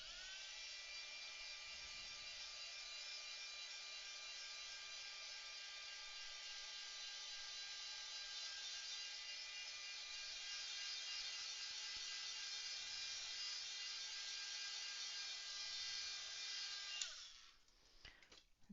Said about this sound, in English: I'm going to turn on the heat gun